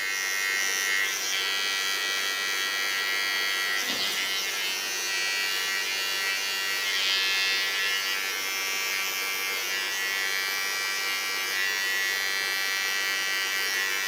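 A small electric hair clipper trims fine hairs while cutting a strong asymmetric bob, giving a steady, close, high-pitched buzz that runs continuously throughout.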